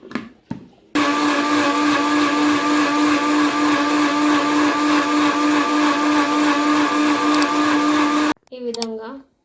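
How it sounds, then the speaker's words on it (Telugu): A mixer grinder whirs loudly and steadily for about seven seconds while blending grapes with sugar and water into juice, with short clicks and voice-like sounds before it starts and after it stops. "ఒకసారి మిక్సీ పట్టుకుందాం"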